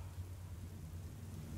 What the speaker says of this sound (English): I hear thunder. Pitter-patter.